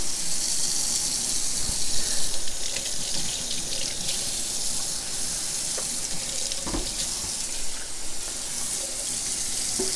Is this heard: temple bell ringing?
no